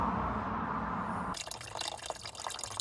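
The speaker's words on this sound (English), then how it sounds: "I'm just going to throw some water up and just see if anything comes out first." Water flushed through the air-conditioning drain of a Skoda Yeti 4x4 pours and splashes out, a continuous rushing flow shifting to a brighter, spattering drip sound partway through, close and fairly loud.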